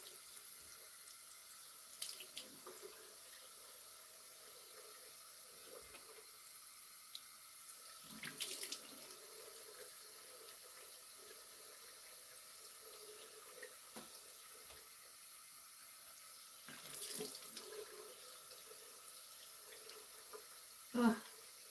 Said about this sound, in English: I'm just gonna get down here and wash my face.